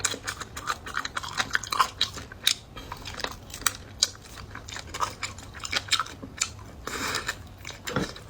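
Pig trotters are chewed close to the microphone during a mukbang meal, giving repeated wet bites, sticky smacking and soft crunches in an irregular rhythm with no talk.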